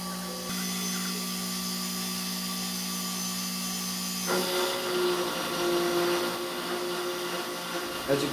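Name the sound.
CNC machine spindle cutting a part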